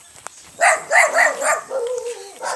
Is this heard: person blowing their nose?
no